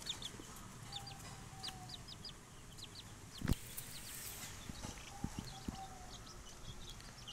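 Five-month-old chickens clucking softly in a pen, scattered short clucks and faint chirps over a quiet background, with an occasional thump, no talk.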